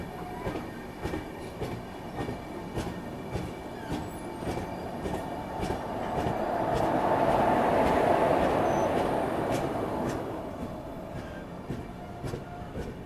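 A Rajdhani Express hauled by an Izzatnagar WAP4 electric locomotive runs along the track, steady rolling rumble with rhythmic wheel clicks, swelling louder in the middle with a faint squeal before easing off.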